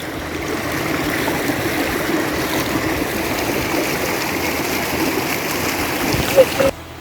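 Cold, clear stream water flows at the foot of Mount Sinabung, a steady broadband rushing and trickling that stays even for the whole stretch, close by, and ends in a brief bump of handling noise.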